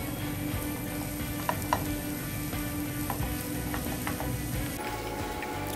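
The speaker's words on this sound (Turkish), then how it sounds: "Karıştırarak pişirmeye devam ediyorum." Sesame mixture sizzling and frying steadily in a pan, with a few soft scrapes and taps as it is stirred, close and continuous with no talk.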